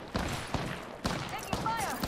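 Gunfire in Apex Legends sounds as a few sharp shots spaced roughly half a second apart, moderately quiet, with game voice lines heard among them.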